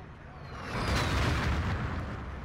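Artillery shells land in a Battlefield 2 conquest match, a rolling, heavy rumble that swells and holds for a couple of seconds, close and loud with no voices over it.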